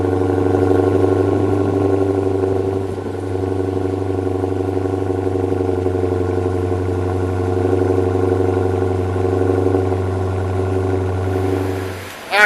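A cammed 2018 Dodge Charger R/T with a 345 5.7L engine idles steadily and loudly up close, its deep lumpy rumble holding for about twelve seconds before a sharp blip right at the end.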